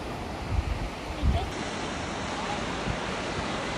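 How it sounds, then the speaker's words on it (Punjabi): Steady roaring rush of the Sissu waterfall and the river below it, a dense broadband wash heard outdoors with a few low wind gusts buffeting the microphone. "ਹੁਣ ਨਿਮਰਤ ਸਾਡੀ ਪਹੁੰਚੀ ਆ ਜੀ ਵਾਟਰਫਾਲ ਤੇ ਥੱਲੇ ਨਦੀ"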